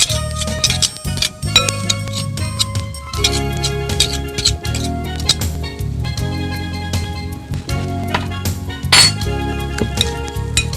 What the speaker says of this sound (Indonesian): Aduk rata telur ini